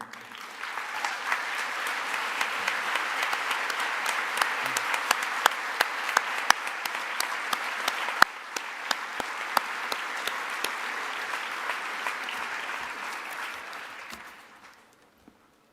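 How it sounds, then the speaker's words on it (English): A large audience at the ACM ICPC World Finals 2017 opening ceremony gives a standing round of applause, sustained dense clapping with a few sharp claps and whistles, tapering off at the end. "please stand up for our last round of applause for these amazing people"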